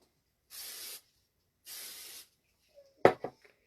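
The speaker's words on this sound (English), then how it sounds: "I have a can of olive oil. That's what I use to spray my cutters with." An aerosol can of olive oil sprays onto cookie cutters in two separate half-second hissing bursts, close and clean, followed by a few light clicks and taps.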